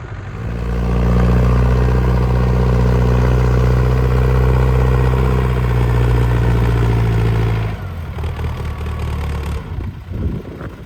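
A heavy MTZ-80 tractor engine drones steadily at a low, loud idle-like rumble, then drops to rougher, clattering working noise near the end while ploughing with a PLN 3-35 plough.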